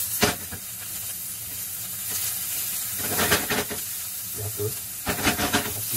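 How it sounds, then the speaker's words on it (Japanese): Chopped onions sizzle and hiss in a hot pan for scrambled-egg omurice, a steady broad frying noise with louder bursts as they are stirred, and a brief word spoken over it. "ひとまず玉ねぎを投入します"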